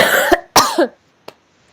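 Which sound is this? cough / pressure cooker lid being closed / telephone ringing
cough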